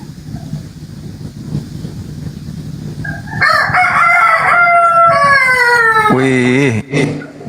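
A rooster crows loudly and close by, one long cock-a-doodle-doo following a stretch of quieter background noise and rustle, with a second short crow cut off at the end.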